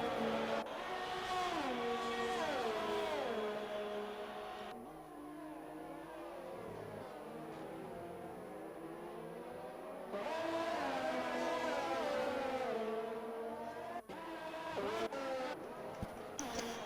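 Racing cars in an Xbox racing game at the Hungary circuit, engines droning and shifting pitch continuously as they rev, upshift and run close together, loud and unbroken throughout.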